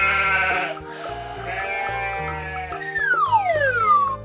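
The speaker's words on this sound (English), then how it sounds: "Sheep." A sheep bleats loudly and up close with a wavering cry, as a bright children's learning music track plays along and ends in a falling whistle.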